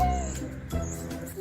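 A pet cat meows in a short, close call that rises at the end, with soft harmonic sound around it and a little voice-like murmur.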